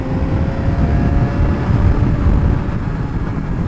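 Suzuki GSXR600 sport motorcycle cruising on a highway, a steady loud engine drone mixed with heavy rushing wind noise, continuous with no speech.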